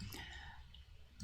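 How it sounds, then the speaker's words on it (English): A few quiet mouse clicks sound as Photoshop menus are opened: one near the start and another at the end, with faint background noise between. "I will click on edit, I will click on menus"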